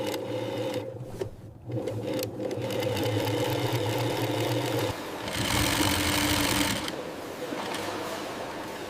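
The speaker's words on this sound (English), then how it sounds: "Skilled operators sew the main sections together." Industrial sewing machine in a factory stitching together the main sections of Brazil's 2026 World Cup football jerseys, a steady mechanical hum with a brighter, busier stretch midway, continuous and close throughout.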